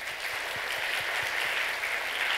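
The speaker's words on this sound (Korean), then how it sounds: "박수해 주시기 바랍니다." A church congregation applauds during a baptism service, a steady wash of dense clapping heard from a little distance and sustained throughout.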